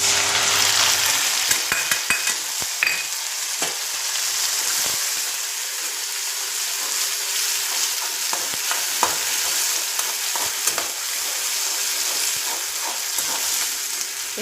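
Tomato puree gravy bubbles and fries in oil while being stirred, a loud, close, steady sizzle punctuated by light scrapes and taps of a spoon against the pan, with no voices.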